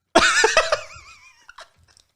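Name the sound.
chewing a Batman calzone from Little Caesars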